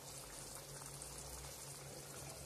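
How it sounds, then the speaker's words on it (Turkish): Soft, steady bubbling of a pot of beef heart pilaf simmering on the stove, a faint continuous churn with a low hum beneath it. "Yemeğimiz kaynıyor."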